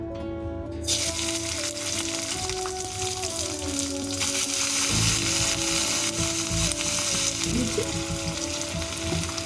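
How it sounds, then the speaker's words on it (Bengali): About 150 grams of small prawns sizzle in hot mustard oil in a kadai, a loud, continuous crackling fry with faint scraping of a stirring ladle. "এখন আমরা এই গরম তেলের উপরে দিয়ে দেবো 150 গ্রাম কুচো চিংড়ি।"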